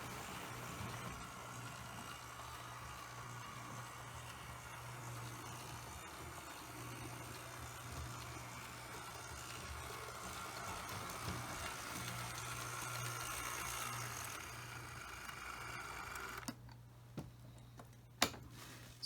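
A New York Central Empire State Express model train runs laps on its track, a steady low rumble with faint rhythmic ticking of wheels over rail joints, fairly quiet and continuous before a brief sharp click near the end.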